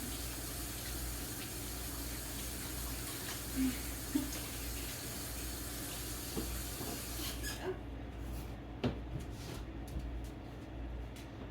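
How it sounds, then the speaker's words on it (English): Tap water runs as hands are washed after touching raw meat, a steady soft rush with occasional splashes and squeaks that cuts off abruptly partway through, leaving faint scattered clatter. "I'm going to wash my hands because I touched that raw meat."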